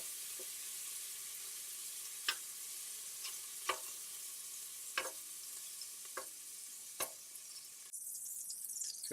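Beef caramelizing in a pan with butter gives a steady sizzle, broken by several sharp scraping stirs at irregular intervals, close and fairly quiet, with the frying swelling louder near the end.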